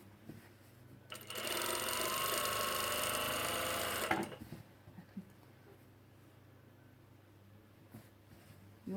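A sewing machine top stitches the hem of a plain poncho in a single steady whirring run of about three seconds, with quiet room sound and small handling noises before and after.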